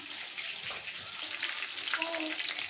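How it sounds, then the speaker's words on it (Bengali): Chicken meat frying in a pan, a dense continuous sizzle with crackling pops, close and steady throughout, with no talk. "মাংসগুলো আমার ভাজা হয়ে গেছে, ফুটুস ফুটুস ফুটতেছে"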